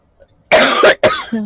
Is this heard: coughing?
yes